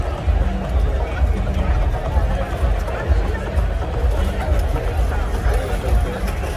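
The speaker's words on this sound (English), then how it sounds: "Look at this crowd, man." A large crowd fills an open-air venue at Global Village Dubai with a dense, constant hubbub of overlapping voices and footsteps. It is loud and close, with no single speaker standing out.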